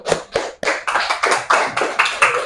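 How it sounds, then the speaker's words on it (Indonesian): Audience clapping at an Indonesian teaching-performance session: sparse, uneven hand claps that build into a steady round of applause from a small group, close and fairly loud, with no talk over it. "Beri tepuk tangan."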